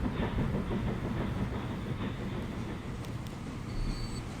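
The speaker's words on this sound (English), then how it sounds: "In comes that train. Off he goes." A train rolls out in Transport Fever 2, a continuous rumbling clickety-clack of wheels over rail joints at moderate distance, with a faint high tone near the end and no talking.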